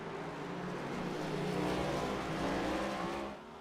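Race car tires squealing as the car snaps into oversteer at Sonoma in an iRacing NASCAR sim race, a loud sustained engine roar and tire scrub holding steady for about three seconds before easing off.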